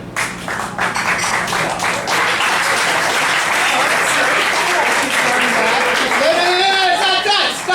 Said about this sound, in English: I want to start a wave of applause starting here, and we're going to go around, so just start clapping.